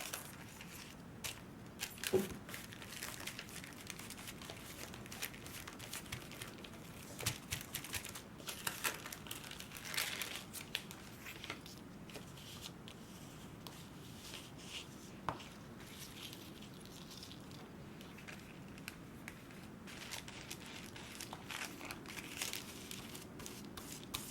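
Marcal deli paper being crinkled and handled during stencil art painting with white paint, a steady soft rustling and crackling texture with scattered sharper crinkles, fairly quiet and close, no talking.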